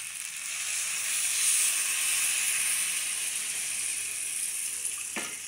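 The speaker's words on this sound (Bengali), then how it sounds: "এখন আমি পানি দিয়ে দিব" Cold water poured into a hot frying pan of fried egg and potato sizzles loudly with a steady hiss that slowly fades, close up, ending with a light clink.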